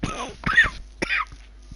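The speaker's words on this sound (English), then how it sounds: "I apologise for coughing" A man with a cold coughs and clears his throat in a few harsh, close bursts, with short pauses between them.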